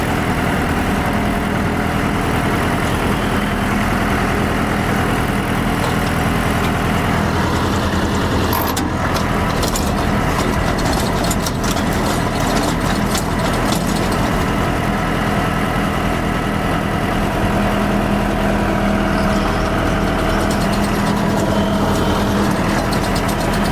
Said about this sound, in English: I got my post hole digger on the back of the tractor.